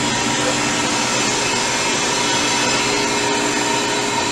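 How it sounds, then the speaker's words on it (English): Air rushing steadily into a freeze dryer through its opened drain valve after a batch of apples, a loud continuous broadband hiss holding even throughout. "Going to open the drain valve."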